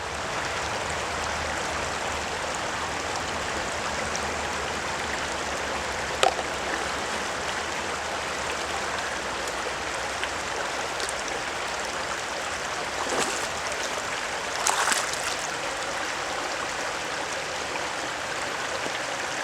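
Water swirling and sloshing in a gold pan while panning California gold, a steady rushing, stream-like wash with a few brief splashes, close and fairly loud with no talking.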